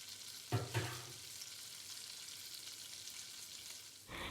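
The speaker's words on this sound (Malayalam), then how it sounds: "ഇനി ഈ ബട്ടറിലേക്ക് ഞാൻ ചെറുതായിട്ട് ചോപ്പ് ചെയ്തെടുത്ത വെളുത്തുള്ളിയാണ് ചേർത്ത് കൊടുക്കുന്നത്." Finely chopped garlic dropped into melted butter in a pan, a couple of soft stirring knocks at the start and then a faint, steady sizzle close by.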